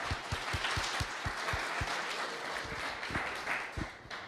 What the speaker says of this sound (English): round of applause for Krasi